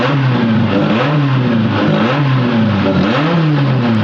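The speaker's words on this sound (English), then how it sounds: "you've got a race engine right out of the box, with some kind of aftermarket exhaust" A standard Toyota 4AG engine with an aftermarket exhaust revs in an AE86 race car, loud and close, its note climbing and falling in repeated surges over a steady raspy drone.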